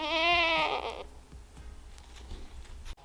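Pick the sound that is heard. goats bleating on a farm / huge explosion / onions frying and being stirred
goats bleating on a farm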